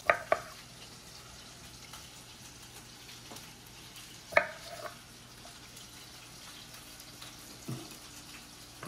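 Scallops searing in a pan give off a faint, steady sizzle, with a few sharp clinks and taps breaking through close by.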